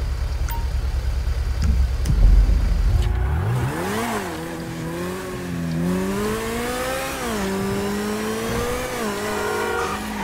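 Car engine in GTA V racing at speed, revving and climbing through gears with rising and falling pitch, loud and close, with a low rumble and tire noise at the start and no talking.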